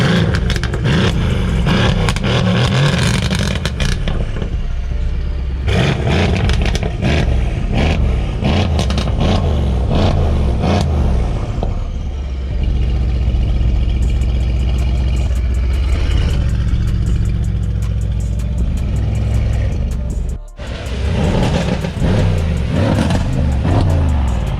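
A Mercedes-AMG C63 S engine with a cat-delete exhaust revs hard and repeatedly, loud and close, its raw exhaust crackling and roaring with a few brief dips between bursts.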